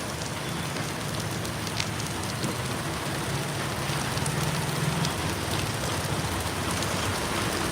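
Heavy rain pours steadily in a dense, constant hiss with a low rumble underneath, unbroken throughout, on the Kuttiyadi–Thottilpalam road toward Wayanad.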